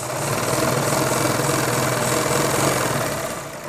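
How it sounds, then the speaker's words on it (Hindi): A sewing machine runs a fine, narrow stitch along the edge of men's underwear fabric, its motor a steady, close whirring hum that holds without pause for several seconds, with no voices. "बारीक सिलाई से इस पर सिलाई लगानी है"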